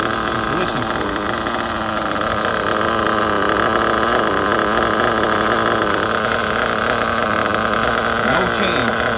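A Losi 8ight RTR nitro RC truggy engine runs continuously, loud and close with a buzzing, high-revving whine and slight wavering in pitch throughout.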